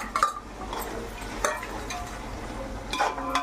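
Green peas and tomatoes being stir-fried in a pan, with a steady soft sizzle and scattered scraping and clinking of a spoon against the metal, several sharper knocks standing out.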